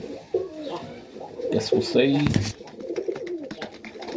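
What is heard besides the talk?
Serbian Tippler pigeons cooing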